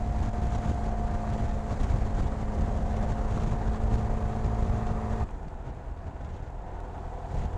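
A car cruises along the M4-Don highway toward Rostov-on-Don at early morning, giving a steady road and engine drone with tonal hum that drops abruptly quieter near the end; no talking.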